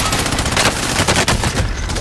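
Gunfire in a video game: loud, dense, continuous rapid shooting that forms an unbroken clatter with no pauses, heard alone.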